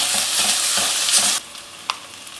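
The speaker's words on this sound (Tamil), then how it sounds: "பாருங்கள் இஞ்சி பூண்டு பேஸ்ட்டு நல்லா வதங்கினேன்னு" Ginger garlic paste sizzles steadily as it is sautéed in a pan for aloo matar gobi sabji, a loud, even hiss with light stirring, then it cuts off abruptly partway through, leaving a few faint clicks.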